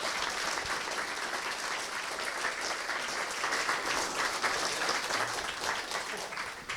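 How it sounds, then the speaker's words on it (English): Audience applause for a panel of beer brewers, a sustained round of clapping from a moderately sized crowd, steady and somewhat distant with no speech over it. "how about a round of applause for Sarah,"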